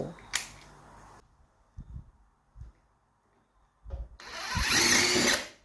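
A power drill fitted with an extractor bit works a snapped-off bolt: a brief whir at the start, then quiet clicks and taps of handling, then a louder, sustained whining spin of about a second and a half near the end.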